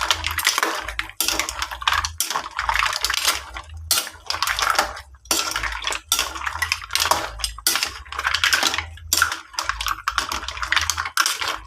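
A utensil stirs mussels (tahong) with pepper in a pan, clattering against the metal in rapid, uneven scraping bursts up close, loud and steady with brief gaps.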